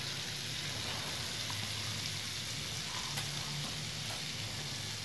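Amul butter sizzles and crackles steadily in a hot pan, a continuous close hiss with faint low hum underneath, no talking.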